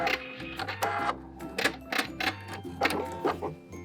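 A sewing machine backstitches a blazer sleeve seam in short bursts of quick mechanical whirring, with brief pauses as it stops and starts close by.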